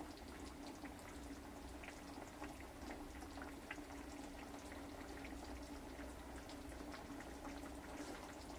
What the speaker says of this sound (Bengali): এখন টক টক করে ফুটছে